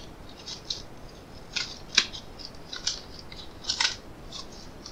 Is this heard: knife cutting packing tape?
yes